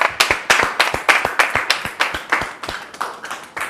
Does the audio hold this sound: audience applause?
yes